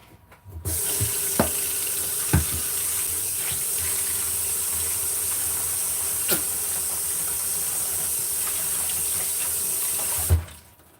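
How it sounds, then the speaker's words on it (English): Tap water runs steadily into a sink for hands being washed, a continuous hiss broken by a few sharp clunks and splashes, close and alone without talk, starting and stopping abruptly. "Let me wash my hands."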